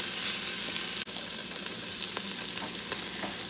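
Veggies and ham sizzle and fry steadily in a Ninja Foodi pot for black-eyed peas: a close, even crackle with a few soft stirring scrapes and one brief dip near the middle, no talking.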